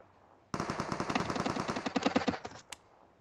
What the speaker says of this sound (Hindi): किधर है ये बंदा भाई, किधर से फायरिंग कर रहा है?